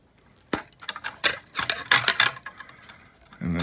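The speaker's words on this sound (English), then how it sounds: "we're just gonna snip each of these 4 wires" Wire cutters snip through the four old wires of a light fixture being replaced, giving a series of sharp, close clicks and snaps in an irregular run, followed by a brief rustle of handling.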